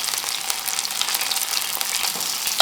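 Prawns crisping in hot oil in a pan for a Chinese-style prawn fry, giving a steady, dense sizzle and crackle that stays close and even throughout with no voices.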